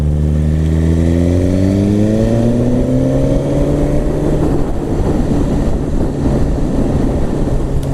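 A 2017 Suzuki GSX-R1000 sportbike accelerating hard in fourth gear, its engine note climbing smoothly and steadily as it pulls, loud and close, with rushing wind building underneath.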